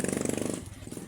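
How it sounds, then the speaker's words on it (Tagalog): A nearby motorcycle engine putters with a rapid, pulsing rhythm, loud at first and then fading somewhat as it moves past, with no talk over it. "Ay, may motor."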